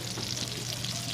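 Chopped garlic and onion sizzle steadily in a hot pan of oil, a dense, even frying hiss for the whole brief moment.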